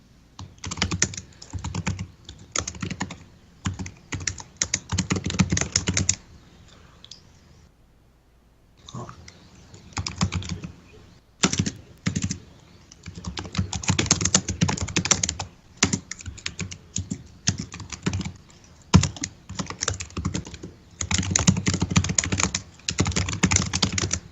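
Rapid typing on a computer keyboard, quick clattering bursts of keystrokes with a short pause midway, close and steady, with no talk over it.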